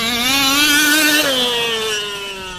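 High-pitched buzzing engine of a built 1/5 scale RC race buggy, revving up and then easing down in pitch, loud and close, with no talking over it.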